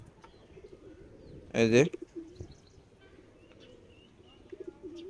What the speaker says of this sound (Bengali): তো এই যে এই কবুতরগুলো আমার, আপনারা জানেন যে নটটা ডাকতেছে